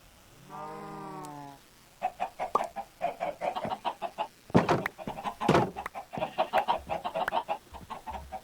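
Slime chickens in Minecraft Sky Factory 3 give one drawn-out squawk, then a rapid, busy run of clucks that carries on close and fairly loud.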